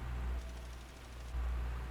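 A worn tractor engine in Farming Simulator 25 drones low and steady, swelling twice into brief heavier surges, with no one talking.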